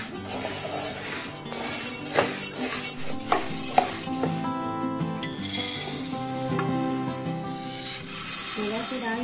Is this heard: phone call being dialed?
no